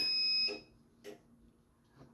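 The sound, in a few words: heat press beeping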